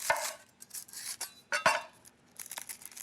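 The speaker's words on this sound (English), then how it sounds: "Okay, let's chop up a medium onion." A knife chops a medium onion on a cutting board, giving a few irregular crisp cuts and knocks, close and fairly quiet, with short pauses between strokes.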